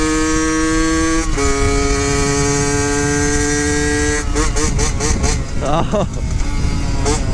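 A Yamaha YSR50 mini bike with an upgraded exhaust and carburetor, its engine buzzing loudly and steadily at high revs, then rising and falling in pitch through rapid gear changes, very close, with a brief exclamation.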